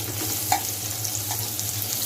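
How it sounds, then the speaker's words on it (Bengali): About a cup of onions fries in oil in a wok, giving a soft, steady sizzle with a few light stirring scrapes, quiet and close with no talking. "পেঁয়াজটা একটু ভাজা ভাজা করে নেব।"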